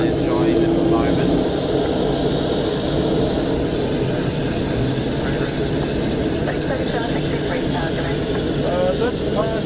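A Qantas airliner departing Melbourne Airport for Hobart produces a loud, sustained jet engine roar, heard close and continuous while people talk over it.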